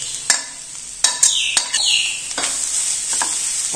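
Freshly grated coconut from half a coconut roasts slowly in a pan while a spoon scrapes and stirs it in sharp, irregular strokes over a soft background sizzle.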